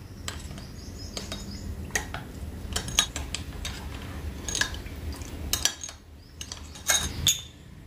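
A spoon stirs custard powder into milk in a metal pot, with scattered bright clinks against the sides over a soft, low kitchen hum, some taps close together and others spaced apart.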